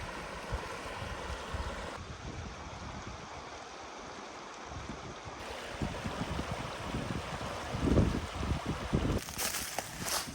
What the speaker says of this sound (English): Water moving pretty good today.